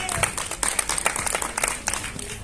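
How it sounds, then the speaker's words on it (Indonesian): Scattered clapping from a crowd at a horror film cast presentation, uneven and mid-level, with talk and bustling noise mixed in throughout the short burst. "Selanjutnya kita juga ada tepuk tangan untuk Badria Afif."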